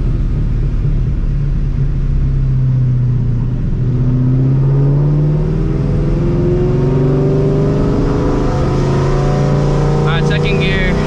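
A supercharged New Edge Mustang GT pulls a second-gear roll on a street, its engine rising in a loud, steady climbing drone with whine over the rumble, close and continuous, ending with a brief higher-pitched burst.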